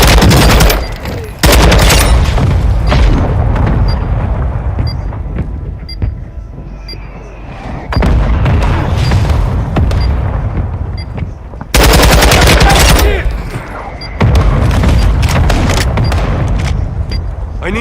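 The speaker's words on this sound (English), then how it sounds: "Requesting fire mission. Target marked. Copy. Mortar strike inbound now." Mortar strike explosions and rapid gunfire crash through a military video game battle, loud bursts of automatic fire and heavy booms coming in waves with brief quieter gaps between them.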